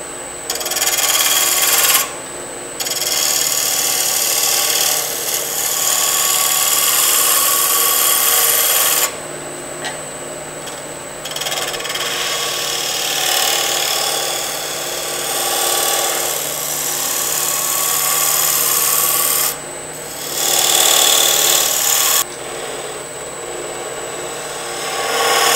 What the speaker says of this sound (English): So I'm going to just take a spindle gouge and clean this up.